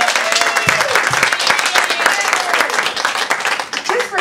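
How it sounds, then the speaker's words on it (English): An audience applauds a choir director at a talk, the dense clapping loud and close, with voices and a cheer mixed into the applause. "So let's give her a round of applause."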